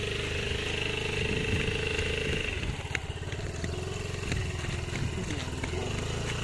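A Kawasaki Brusky 125 motorcycle idles nearby with a steady, low, throbbing engine note that dips slightly partway through, while faint background voices come and go.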